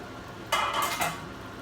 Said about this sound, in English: I'm going to lift the lid up